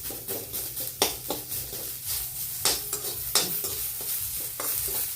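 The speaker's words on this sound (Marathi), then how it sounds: "कांदा कांदा चांगला लाल भाजून घ्यायचा आमटीला थोडस तेल टाकायचं" Chopped onion frying in a little oil in a pan for a Maharashtrian katachi amti curry, a steady soft sizzle broken by repeated clinks and scrapes of a stirring spoon against the pot.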